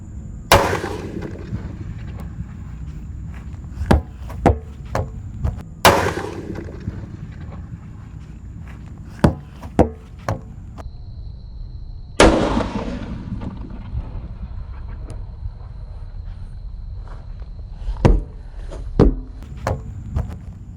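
Heavy, booming firecracker blasts inside a large metal drum, with a metallic ring and echo, several big bangs spaced irregularly, with smaller sharp pops between them.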